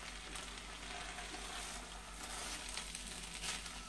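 Fried rice cooking in a pan over very low gas, a faint, even sizzle with light stirring scrapes running under it throughout, no talking.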